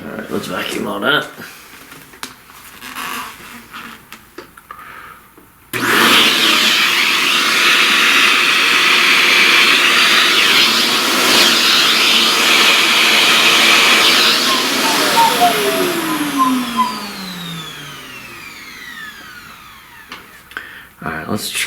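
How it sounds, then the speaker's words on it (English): A vacuum cleaner sucks up pastel dust from a drawing, starting abruptly with a loud, steady whine that runs for about ten seconds before cutting off, with brief talk around it. "let's vacuum all that."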